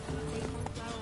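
Roach, the horse in The Witcher 3, moves in a fast run of rhythmic clip-clop hoofbeats with game ambience, heard close during a single second while someone speaks over it.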